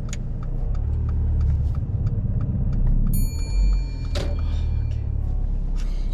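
A car pulls away on a public road during a driving lesson, a steady engine rumble with low road noise throughout, plus a few ticking indicator-like clicks and a brief mechanical clunk near the middle.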